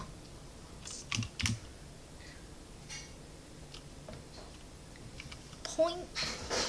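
Fingers type code on a computer keyboard in a code editor, with sparse clusters of light clicks and keystrokes and brief pauses between bursts, close and fairly soft.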